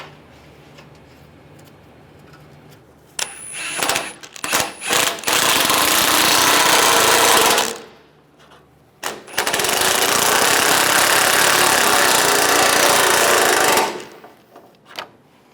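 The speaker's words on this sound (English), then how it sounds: "Take the nuts, put those on, tighten those down." An impact-style power tool runs in two long, loud bursts, tightening the nuts on a front bumper of a 1999-2006 Chevrolet Silverado 1500, with short clicks and taps before and between the runs.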